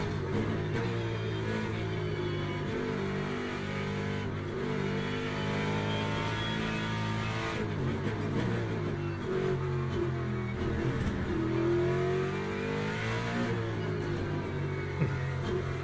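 Race car engine lapping Interlagos on cold tyres during a qualifying session in Le Mans Ultimate, droning steadily with rising and falling revs and gear changes throughout, loud and continuous with no talk.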